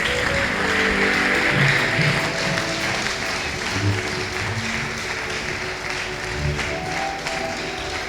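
A church congregation claps steadily in a dense, continuous wash of applause that fills the room, with low instrumental tones underneath.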